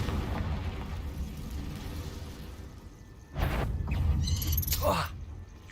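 A Confringo blasting spell in Hogwarts Legacy bursts with a sudden loud boom partway through, followed by crackling debris and a short swooping effect, set against steady game ambience.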